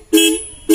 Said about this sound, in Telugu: ఇక్కడ హార్న్ వేస్తాను